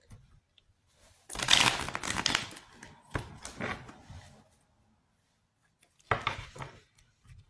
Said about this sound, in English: These cards won't shuffle.